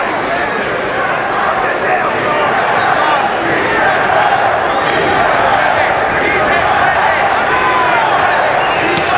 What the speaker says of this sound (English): Here comes that USA chant again.